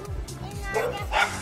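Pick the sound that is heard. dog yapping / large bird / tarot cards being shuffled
dog yapping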